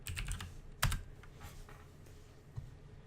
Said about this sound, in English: we're gonna go into the search bar and gonna type in msconfig